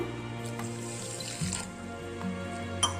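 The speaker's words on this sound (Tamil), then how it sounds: "தண்ணி சேர்த்துக்கலாம்." Water poured from a vessel onto sugar in a cooking pot to start a syrup for sweets made from idli batter: a steady, close running splash over about three seconds, ending with a small clink.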